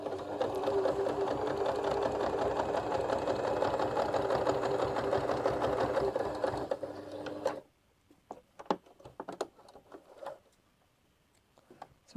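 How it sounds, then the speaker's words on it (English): A sewing machine stitches a laundry bag in a steady, continuous whirring run for several seconds, then stops, leaving a few scattered clicks and small handling noises. "So I'm sewing"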